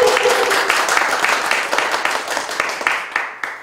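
Audience applause opening a gospel praise concert, many hands clapping in a lively crowd, with some distinct individual claps standing out as the clapping slowly thins and tapers off.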